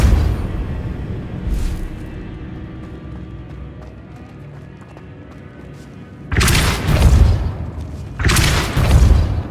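Confringo and Repulsor spell blasts in Hogwarts Legacy, two heavy booming bursts with rumbling tails late on, loud and close, after a quieter stretch with a faint thud early.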